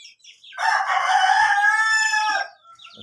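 A shamo rooster crows once in a backyard, a loud, close, drawn-out cock-a-doodle-doo lasting about two seconds, with faint clucking just before and after.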